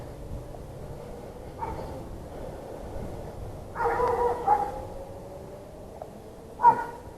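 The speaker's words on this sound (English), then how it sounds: "Neighbors have a big old doggy who wants to come out and play, and a little dog too." Neighbours' dogs, one big and one little, barking in a backyard: a few scattered barks and yips at moderate distance, with a louder cluster in the middle and a sharp bark near the end.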